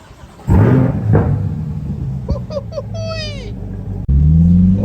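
C8 Corvette V8 engine pulling away on a road, a low burbling rumble that revs up in short bursts, shifts, then surges again, close and fairly loud.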